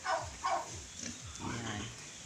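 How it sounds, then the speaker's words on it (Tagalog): Native pigs on a rural Philippine farm give several loud, close grunts, two strong bursts early and softer snorting after, with faint talk in the background. "Meron din sila ditong native pigs."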